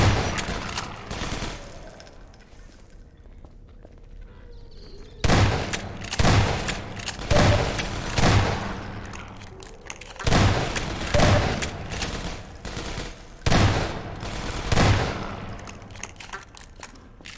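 Shotgun blasts in a video game come as a loud, heavy barrage, with about a dozen booming shots in uneven clusters after a quiet opening stretch and thick rumbling noise between them.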